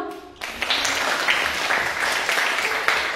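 Applause from an audience at a university public lecture held by teleconference, starting abruptly after a brief quiet moment and continuing as moderate, steady clapping.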